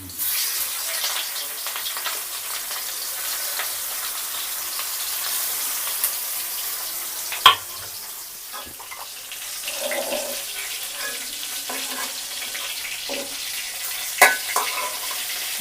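Fish frying in oil in a pan at home, a steady soft sizzle and hiss running throughout with a couple of sharp clinks and faint kitchen clatter, no talking.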